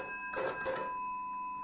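An extension telephone on a GPO N1070 PMBX switchboard rings in a short burst of two quick bell trills, close and clear against a faint steady hum.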